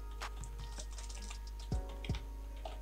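Someone types on a computer keyboard with a few light, quick keystrokes close by, followed by a couple of heavier key presses, over a low steady hum.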